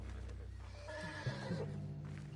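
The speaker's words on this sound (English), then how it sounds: "What's wrong with this horse?" A horse neighs in Red Dead Redemption 2, a short whinny rising over steady game ambience and music, fairly close and moderately loud.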